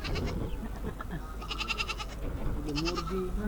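Several goats bleat in short wavering cries, some near and some farther off, at the Khan Jahan Ali shrine in Bagerhat, with a person talking over them.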